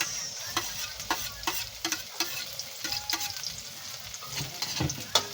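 Garlic and onion sautéing in a pan for Filipino chicken with tomatoes, a steady close sizzle and crackle of frying broken by repeated scrapes and clicks of stirring, with no voices.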